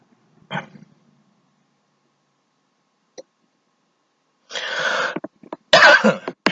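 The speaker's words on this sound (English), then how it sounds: "I've had a cough lately." A few harsh coughs, one short one early, a faint one later, then a cluster of louder throaty coughs near the end, close and otherwise quiet.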